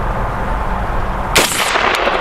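A Genesis Arms Gen-12 12 gauge shotgun fires full-auto slugs in one loud, sharp, close blast. Steady outdoor background noise runs before and after it.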